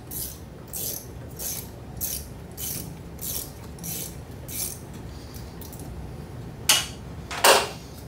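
A ratchet with a 10mm socket loosens a hose clamp on a second-generation Tacoma, giving a regular series of close, crisp clicking bursts followed by two sharper, louder clacks.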